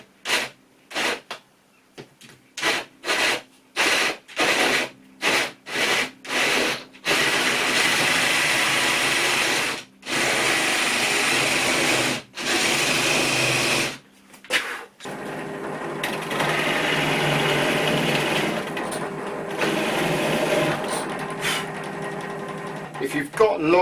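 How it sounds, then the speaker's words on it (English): A hand power drill whirs in short bursts, then runs in long sustained stretches with brief stops, loud and close, boring a hinge hole into a wooden kitchen cabinet door. "You can just use a hand drill."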